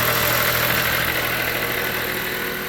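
Running 2013 Chrysler 200 engine with a noisy alternator clutch pulley, giving a constant loud whirring, rattling drone heard up close without pause.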